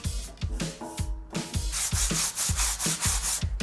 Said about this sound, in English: all I'm trying to do with the sanding and the scrubbing is to get rid of the loose, flaky rust, the iron